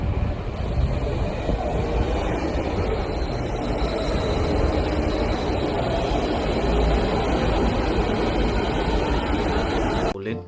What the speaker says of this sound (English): bullet train.